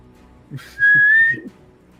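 A single clear whistle from a person, a rising tone held for about half a second, loud and close over a faint background of game sounds.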